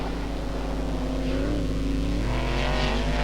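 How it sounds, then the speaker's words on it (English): A loud sprint car engine drones close by, its pitch climbing gradually as it accelerates, continuous and unbroken. "And Wayne Gardner now finding the acceleration and handling capabilities of the sprint car as he gingerly winds on the power."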